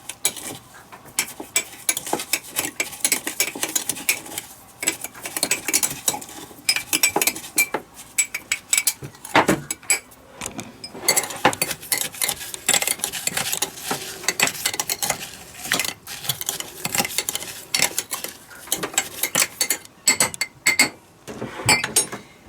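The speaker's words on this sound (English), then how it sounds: "We take a spoon and then we're gonna squeeze it" A metal spoon clinks and scrapes against a glass while pressing brown sugar and lemon for a drink aboard a sailing boat, producing dense, rapid, bright jangling that runs on steadily with brief pauses.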